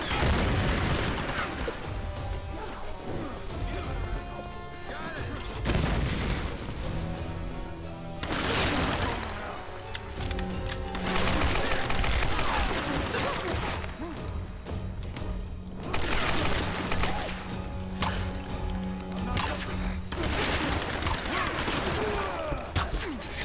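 Tomb Raider gameplay combat brings repeated loud bursts of gunfire and explosive crashes, rising and falling in dense waves across the whole stretch.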